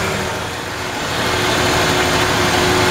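A 1994 Ford F-150 engine with a lean running condition idles steadily and loudly, a dense continuous rumble that swells slightly toward the end.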